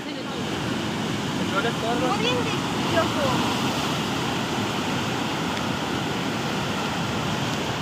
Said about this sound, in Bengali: আজকে কি বৃষ্টি তার উপর জোয়ার এই জন্যই কি এত জলের তোড়